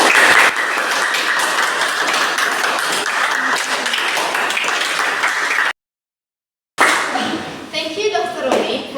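Audience applause fills a formal ceremony hall as a dense, steady wash of many hands clapping, then cuts to a second of silence and returns as a thinner patter mixed with a speaking voice.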